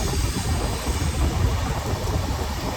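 Steady low rumble of a Kochuveli–Korba superfast express running at 100-105 km/h, heard continuously as a dense, even roar with no talking.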